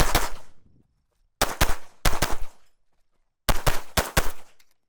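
Loud, close pistol shots from a Staccato XC fired at six targets on an indoor range, coming in three quick bursts of paired and triple rounds separated by short silent pauses.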